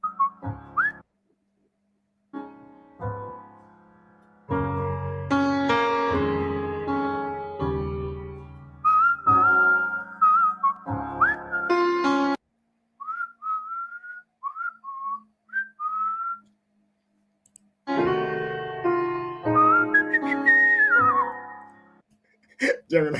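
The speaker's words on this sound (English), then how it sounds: "He can whistle." Someone whistles a tune in several bursts separated by short silences, with held notes and upward slides, close to the microphone; brief talking or vocal sounds occur between phrases.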